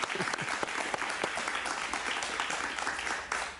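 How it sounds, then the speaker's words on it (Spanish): Studio audience applauding warmly to welcome Leopoldo López onto a talk show set, a steady dense wash of clapping from many hands throughout, loud and close. "Ha venido Leopoldo López y lo recibimos con un aplauso muy cariñoso."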